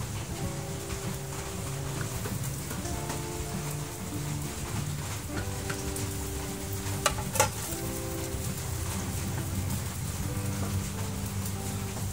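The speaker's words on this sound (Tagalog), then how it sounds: "lalagyan natin ang ating malagintong sibuyas." Golden onions sizzle softly in a pan with a continuous crackling hiss and a few faint stirring clicks, alongside a low background hum.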